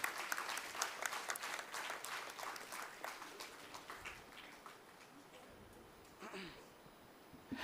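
An audience at a spiritual talk gives a round of applause as people come onto the stage, the clapping fairly faint and distant, thinning out midway, with voices talking over it.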